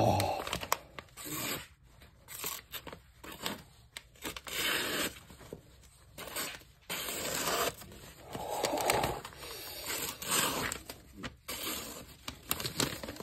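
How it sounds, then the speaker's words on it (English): Ganzo FH41 folding knife slicing through paper, with repeated close, crisp tearing and crinkling strokes in irregular bursts separated by short pauses. "I'm not cutting the paper right because I'm trying to."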